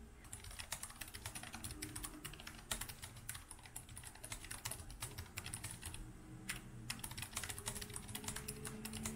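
Rapid, steady keyboard typing heard up close, a dense run of light key clicks with brief pauses and no talk.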